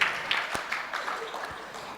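An audience claps at a religious discourse to welcome a good answer. The applause is a short, dense patter lasting about two seconds and fades slightly as it goes.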